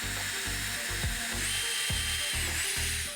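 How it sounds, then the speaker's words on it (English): A power drill whirs steadily and bores through painter's tape laid over the workpiece, close and loud, with rhythmic pulses in the motor's tone and no talk. "then you drill right through the tape"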